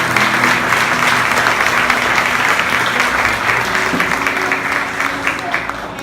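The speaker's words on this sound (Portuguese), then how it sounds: "Uma salva de palmas a Jesus" A church congregation applauding during a communion service: dense, loud, sustained clapping from the whole room that holds steady and then eases slightly at the end.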